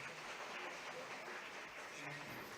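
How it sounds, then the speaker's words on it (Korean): Audience applause at an international development conference in Seoul, a dense, even clapping from a crowd that holds steady throughout the short stretch at a fairly soft level. "박수 감사드립니다."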